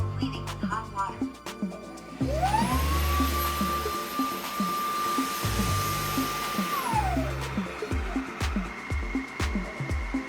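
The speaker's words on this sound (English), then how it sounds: "it automatically washes the roller brush, scrubs the inner tubes, and finishes with hot air drying" A Dreame H15 Pro wet-dry vacuum dock runs its hot-water self-cleaning cycle on the roller brush, a loud pulsing mechanical whir with a rising electronic tone that holds steady for several seconds before dropping away.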